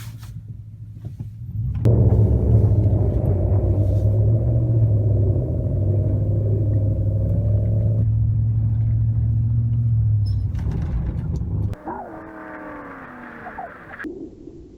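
A Chevy Silverado 4WD in 4 auto drives on sand, its engine rumbling up loud after a quiet start, holding a deep steady drone, then dropping off to a lower idle near the end.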